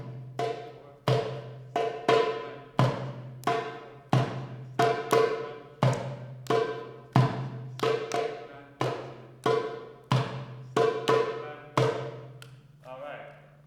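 Tom drums are struck in a steady, evenly spaced rhythm of about a dozen hits, each one ringing briefly before the next, close and moderately loud, with no talking.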